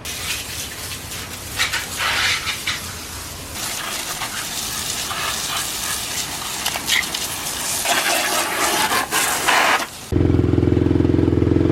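Water from a garden hose sprays steadily onto a Kawasaki KLX351 dirt bike, a close hissing gush with splashing bursts that swell and ease, before cutting to a louder different sound at the end.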